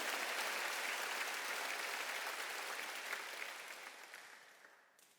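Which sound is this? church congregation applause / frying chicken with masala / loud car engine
church congregation applause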